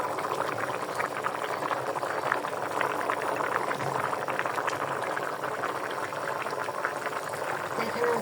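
A curry of green beans, potatoes, shrimp and dried fish bubbling steadily in a pot, a dense close burble of boiling liquid that continues evenly from start to finish.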